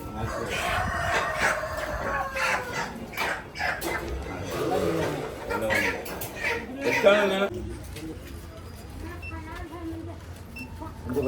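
Chickens cluck and a rooster crows at a chicken market, mixed with a barking dog and ongoing talk amid busy background noise.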